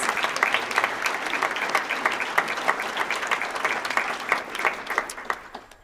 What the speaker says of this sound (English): Could we have a round of applause for all of those groups?